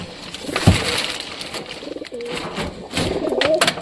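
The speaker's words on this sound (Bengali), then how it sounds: "দেখো সব কবুতর ডাকতেছে কত সুন্দরভাবে" Several soft, low pigeon coos repeating, with a brief louder thump and rustling nearby, no talking.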